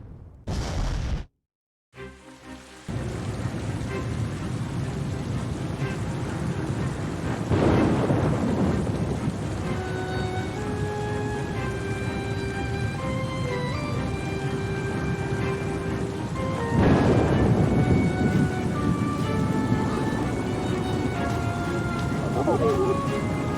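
A thunderstorm in Oceanhorn 2 plays under steady rain, with low rolling thunder swelling twice amid the downpour after a brief silent gap at the start; a voice narrates over it.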